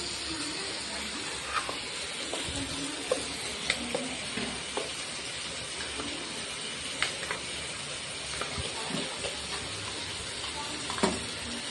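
A ground paste sizzles and fries steadily in a pan with bay leaf and cloves for chicken curry, a continuous frying hiss with occasional stirring clinks and scrapes close by.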